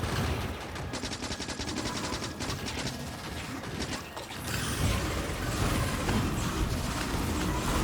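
Automatic gun turrets in the factory-building game Factorio fire rapid, continuous bursts of gunfire at a worm in an offensive battle, a dense, loud mechanical rattle that runs the whole time and grows heavier partway through.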